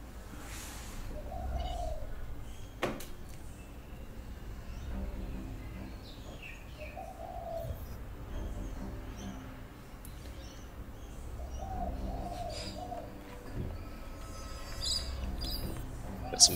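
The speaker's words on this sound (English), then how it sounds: "Got some birds in their house or something." Pigeons or doves coo softly inside a house, with a few separate low murmuring calls spaced several seconds apart over faint background noise.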